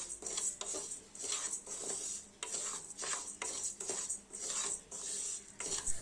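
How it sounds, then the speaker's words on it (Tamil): Moong dal roasting in a pan over a medium flame for payasam, with repeated scraping and stirring scrapes of a spatula against metal, steady and close, with no talking. "மீடியம் ஃப்ளேமில் வச்சுட்டு பாசிப்பருப்பை வறுத்துக்கோங்க."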